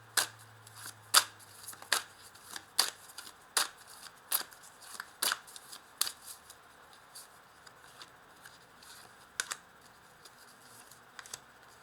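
Oracle cards being shuffled by hand, a series of crisp riffling snaps in an irregular rhythm, close and clear against a quiet room.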